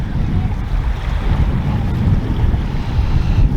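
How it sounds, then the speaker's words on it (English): Wind gusts over the water at the entrance to Langstone Harbour just after low tide, a loud, steady rumbling roar with no clear breaks. "And wind's coming straight up"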